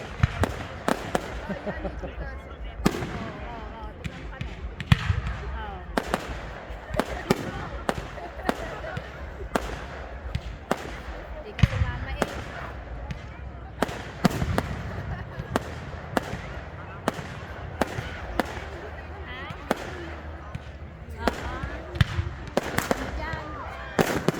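Rapid, repeated fireworks blasts crackle and boom in dense bursts for the whole stretch in Paris, with a crowd murmuring and voices underneath.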